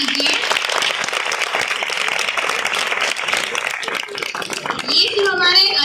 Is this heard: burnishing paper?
no